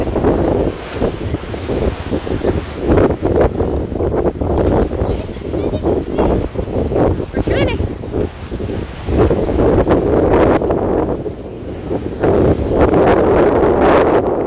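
A sea storm strikes the Karachi coastline, with strong wind roaring and buffeting the microphone over crashing surf and churning waves. The sound is loud, continuous and gusty throughout.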